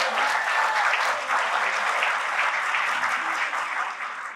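Audience applause for the 2024 Brookline Women of the Year honorees at an awards ceremony, a dense, sustained clapping from a sizeable crowd, loud and steady before tapering slightly at the end.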